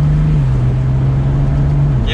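A 2022 BMW M440i Convertible accelerates gently in sport mode, its exhaust giving a steady, moderate drone with a slightly rising pitch, heard from inside the car.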